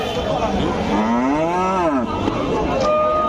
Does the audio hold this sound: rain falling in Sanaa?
no